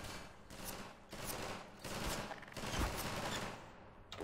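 Rapid bursts of pulse rifle fire in the video game Half-Life 2, several dense volleys in quick succession, loud and with no talking.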